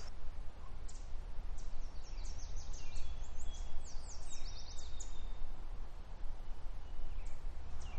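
Several yellow warblers sing from a line of red alder trees on restored island habitat, their high, brief phrases repeating faintly and at a distance over a steady low rumble of wind or traffic.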